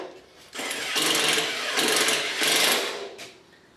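A cordless impact driver in self-tapping mode runs in three loud, close bursts of rapid hammering, with short pauses between them and no talk.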